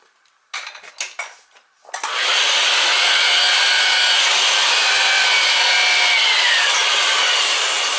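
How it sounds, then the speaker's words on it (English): A reamer scrapes around the inside of a cut pipe end during boiler and oil tank replacement work, a few metallic clinks followed by a loud, sustained grinding rasp that fills the rest of the clip. "Next thing I'll do is I'll ream it with the reamer."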